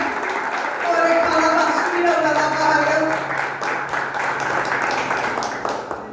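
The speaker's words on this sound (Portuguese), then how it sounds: "Pode aplaudir Jesus, porque Jesus merece." Congregation in a church clapping steadily for several seconds, a dense, fairly loud patter of hands under a sustained musical tone and voices.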